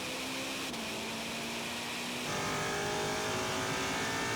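A 1000+ horsepower BMW and a Ferrari SF90 accelerating hard in a third-gear roll-on drag race from 50, a loud, steady engine roar that climbs in pitch and shifts abruptly partway through as the cars pull away, heard up close.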